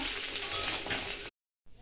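Panch phoron spices and a green chilli sizzle loudly in hot oil in a wok, a bright, hissing burst that cuts off abruptly, then a softer sizzle returns after a short gap.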